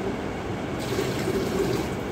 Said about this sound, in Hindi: पानी तो था और सारा पानी खाली भी हो गया